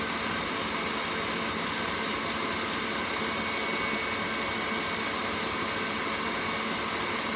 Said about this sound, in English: Just want to get that air all flowing through it and get that egg and the icing sugar all whisked up.